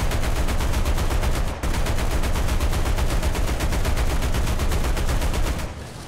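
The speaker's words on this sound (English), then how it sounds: "Let's turn around and put some 50 cals up in the air." Sustained .50 caliber machine gun fire in War Thunder tank gameplay, a rapid, loud, even rattle of shots running almost the whole time with a brief break near the start and a tailing off at the end.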